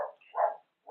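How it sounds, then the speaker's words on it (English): A puppy gives muffled barks from underneath bed covers, two or three soft, short yelps close by in otherwise quiet surroundings. "She's barking from underneath the covers."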